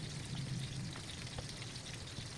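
Fish frying in a pan gives a soft, continuous crackling sizzle, quiet and steady with small pops throughout and no voices.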